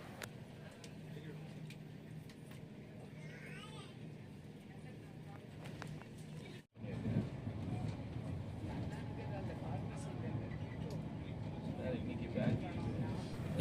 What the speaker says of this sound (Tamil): நம்ம வண்டி 110 வரைக்கும் சூப்பராக போயிட்டுருக்குங்க